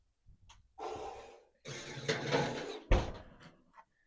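A kitchen oven door is pulled open with a scraping, rushing noise, followed by sliding and shuffling, then shut with a solid thump near the end. No one speaks.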